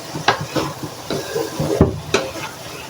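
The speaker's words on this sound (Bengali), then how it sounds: "ভাজিটা দেখো আমি আবার নেড়ে নেব" Fried Malabar spinach fruit is stirred in a pan with a spatula, giving a few soft scraping strokes against the metal over a faint sizzle. The strokes are close and spaced unevenly, with no talk.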